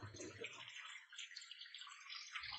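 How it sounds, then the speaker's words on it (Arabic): Water running from a tap into a cooking pot to soak it for washing: a steady, faint hissing rush of flowing water, continuous throughout and heard alone. "مشغل الماء ذا في القدر عشان ينقع وعشان اغسله"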